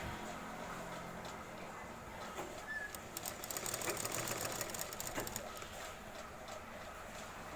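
A sewing machine stitches a folded shirt sleeve placket, making a continuous fast whirring chatter that grows slightly louder in the middle, close by with no talking.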